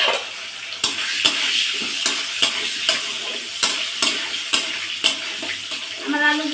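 Potatoes fry in a pan on a gas stove with a continuous sizzle, interrupted at regular intervals by sharp scraping knocks as a spatula stirs them, close and clear.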